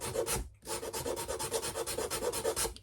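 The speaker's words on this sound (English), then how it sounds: "and just clean it up with giving it a sand." Sanding wooden model ship pieces for a Santa Maria kit, quick rhythmic rubbing strokes, close and soft, pausing briefly before resuming in an even back-and-forth pattern.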